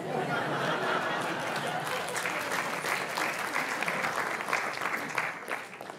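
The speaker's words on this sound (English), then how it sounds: "Now, you shouldn't have clapped." Audience at a lecture on science and God bursts into sustained applause, a steady wash of many hands clapping that holds loud for several seconds before thinning slightly, with faint chatter mixed in.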